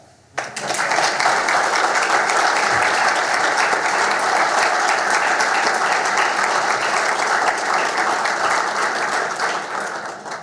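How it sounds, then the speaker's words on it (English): Sustained applause from an audience at a mayor's prayer breakfast in Brooklyn Park, dense steady hand claps starting abruptly and holding loud and even throughout, with no talk over it. "join me in honoring the women with a hand clap"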